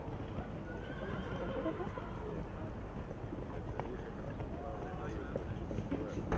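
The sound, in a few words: horse neighing and hooves clip-clopping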